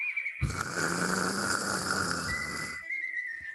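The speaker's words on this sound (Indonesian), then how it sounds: "Dia tidur sampai ngorok." A single long snore, a breathy rasp with a whistling tone, rising out of quiet and stopping abruptly.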